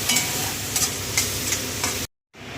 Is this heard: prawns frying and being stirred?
yes